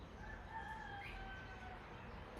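A rooster crows faintly from a distance, its drawn-out call rising over steady, quiet outdoor background noise.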